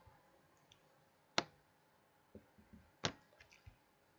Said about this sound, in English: And I am clicking here.